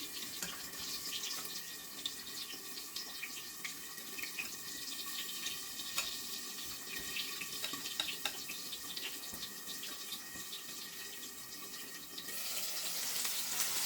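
Quails deep fry in hot oil with a steady dense sizzle and crackle, close and continuous, the hiss swelling brighter toward the end.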